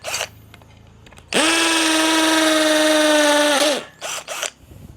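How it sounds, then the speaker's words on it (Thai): A DCA ADJZ1202 12V cordless three-mode drill spins up into a loud, steady high whine for about two and a half seconds, then winds down, with brief quieter mechanical clicks and handling noise before and after. "มันเป็น สว่านครับ มันไม่ใช่แบบลูตอรี่ที่เกิดมาเพื่อเจาะปูนนะครับ"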